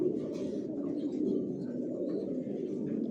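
Racing pigeons in a loft give a steady, low murmur of overlapping coos, continuous and moderately close, with no talking.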